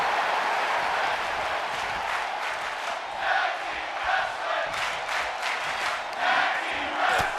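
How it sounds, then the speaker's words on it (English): Capacity arena crowd at Madison Square Garden in the WWE 2K24 video game, a steady loud roar of cheering with swelling bursts of shouting every second or so, no commentary over it. "You listen to this capacity crowd at Madison Square Garden showing their appreciation of all 4 talents"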